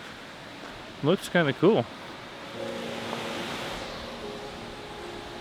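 The Leke Leke waterfall in Bali gives a steady broad rushing roar, quiet at first and heard under a short spoken remark before it carries on alone.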